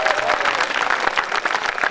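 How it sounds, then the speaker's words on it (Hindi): An audience claps at a night-time kavi sammelan poetry gathering held at an educational institute, a dense, steady wash of hand clapping filling the hall for a couple of seconds. "आपको तालियां बजानी पड़ेंगी"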